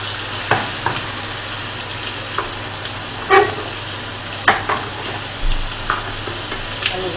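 Garlic and free-range chicken frying in a pan for tinola, a constant close sizzle broken by several stirring scrapes and clacks of a utensil against the pan, with no talk.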